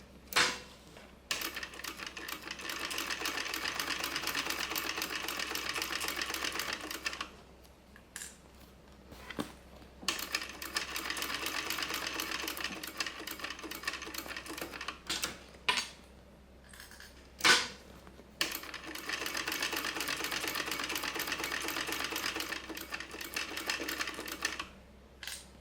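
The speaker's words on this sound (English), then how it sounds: "I'm actually going to take a couple stitches straight across" A sewing machine stitches a fabric backpack or sling bag in three sustained runs of steady, rapid mechanical whirring. Short pauses and clicks of fabric handling sit between the runs, close up and with no talk.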